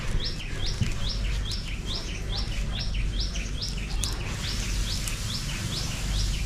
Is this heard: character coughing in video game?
no